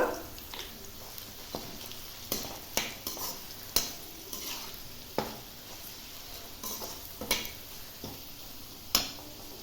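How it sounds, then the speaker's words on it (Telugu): Curry leaves and turmeric fry in oil in a pan for mango pulihora, with a soft sizzle beneath and repeated sharp clinks and scrapes of a spoon stirring against the metal pan, no talking. "చూడండి ఇవైతే బాగా వేగిపోయాయి కదా"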